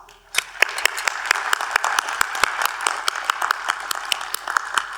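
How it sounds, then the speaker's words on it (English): Scattered applause at a university commencement ceremony, a modest crowd clapping with distinct individual claps, starting abruptly and continuing unevenly throughout. "Can we take a moment to extend our appreciation to them all with an applause?"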